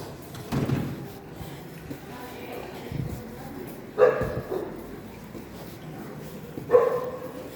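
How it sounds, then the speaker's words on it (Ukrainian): A couple of dogs bark in short, separate yelps at a moderate distance on a morning street in Foligno, Italy, with faint voices and street ambience in between. "собак, повно, собачат"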